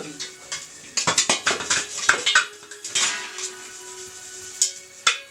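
Big pots and dishes being scrubbed and washed in a Maithili home, with close, irregular metallic clanks, scrapes and clinks in bursts, a voice speaking briefly among them.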